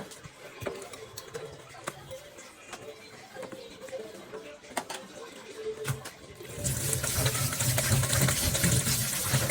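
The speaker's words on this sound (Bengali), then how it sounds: "চুলাটা ধুয়ে ফেলবো আর এই প্লেট বাটি কয়টা বের হইলো এগুলো ধুয়ে ফেলবো" Plates and bowls are washed in a home kitchen with clinks and splashes, then a tap opens into a loud, steady gush of running water for the last few seconds.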